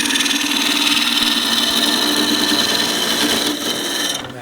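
An asymmetric bowl gouge cuts into a wooden mallet blank spinning on a lathe, a loud continuous rasping hiss with the motor's hum beneath, easing off near the end.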